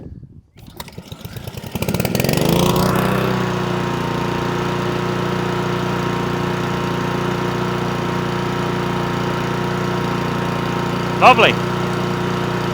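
A lawn mower engine starts up and settles into a loud, steady run that hunts and surges from a fuel restriction in the carburetor, with a sharp burst near the end and a brief word spoken over it.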